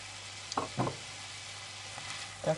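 Chopped carrots go into a hot pan for a Hungarian bean soup, giving a few soft scrapes and clatters over a quiet, steady sizzle close by.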